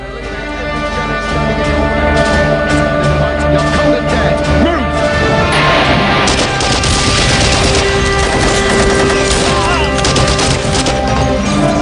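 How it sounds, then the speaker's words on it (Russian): Retro video game combat audio in a Royal Marines Commander game, with metallic weapon clanging and crude, almost 8-bit explosions over layered music, loud and continuous throughout. "лязг и скрежет оружия и чуть ли не 8-битные взрывы"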